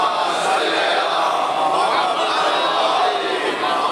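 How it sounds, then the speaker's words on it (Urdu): A large crowd at a Muharram majlis recites salawat together, a dense, steady wash of many voices sustained throughout at moderate loudness. "ایک صلوات پڑھیں ذرا محمد۔"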